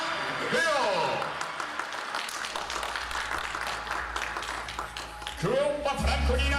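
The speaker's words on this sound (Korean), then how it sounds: "큰 박수" A church congregation at Milano Grace Church claps in a moderate, sustained round under voices, with swelling vocal sounds at the start and end.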